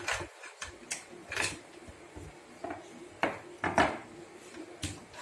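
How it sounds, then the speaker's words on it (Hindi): A screwdriver works a screw out of an Epson L380 printer, making faint scattered clicks, scrapes and light plastic knocks at close range, with no talking. "यहाँ से स्क्रू ड्राइवर डालिए ऐसा, और ये स्क्रू निकाल लीजिए"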